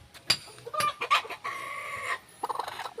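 Several chickens cluck in short, irregular bursts nearby, with a longer drawn-out squawk in the middle.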